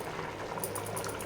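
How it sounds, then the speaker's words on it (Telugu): A pot of vegetable biryani boils steadily, its bubbling and gentle popping running continuously at close range, with no voices. "ఉడుకుతుంది కదా"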